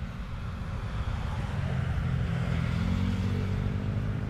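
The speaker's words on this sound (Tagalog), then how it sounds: "Iba yung vibrate ng makina." A motorcycle engine runs on a mix of premium and unleaded gasoline, giving a steady low rumble with rough vibration, close and continuous without pause.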